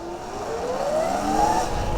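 A Sur Ron electric dirt bike at full throttle on a full charge, fitted with a 54-tooth rear sprocket, gives a loud close motor whine that rises steadily in pitch over two seconds with wind rush underneath.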